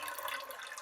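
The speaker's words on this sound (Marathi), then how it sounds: "मी आता थोडंसं पाणी काढते धुवून बघा" Water is poured off freshly washed rice in a home kitchen, a faint, short splashing trickle heard alone without speech.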